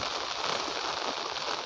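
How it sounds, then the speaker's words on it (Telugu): Heavy, nonstop rain pours down in a dense, even hiss that holds steady from start to finish, with no voices. "నాన్ స్టాప్ వర్షం ఇలాగ కానీ కంటిన్యూయేషన్లో కురిస్తే"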